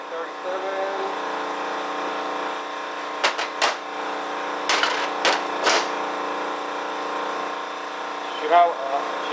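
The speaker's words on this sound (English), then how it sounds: "I think I'm going to wait until the compressor shuts off. Making a bunch of noise over there." An air compressor runs in a workshop during a 700R4 transmission rebuild, a steady droning hum throughout with a few sharp clanks and a voice talking over it.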